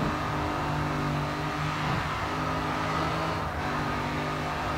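Race car engine in sixth gear in the racing game GRID 2, a loud, steady high-speed drone with constant harmonic whine and a brief dip around the two-second mark, running throughout.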